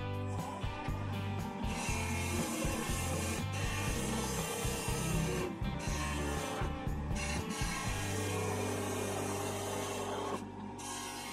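Cedar wood turning on a lathe at about 2000 RPM with a skew chisel, giving a loud continuous scraping and rasping cut with a low rumble, pulsing irregularly as the tool engages, then easing to a steadier hum near the end.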